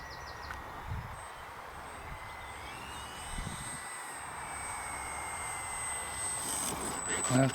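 An E-flite 1.5 m M7 Maule RC model airplane flying in to land, its electric motor a steady faint whine with shifting pitch over grassy outdoor noise.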